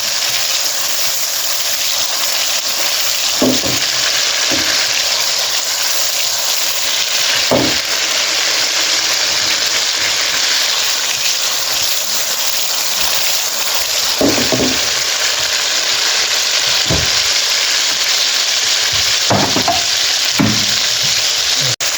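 Beef kofta frying gently in a pan gives a steady loud sizzle throughout, with occasional soft stirring knocks and scrapes and no talking.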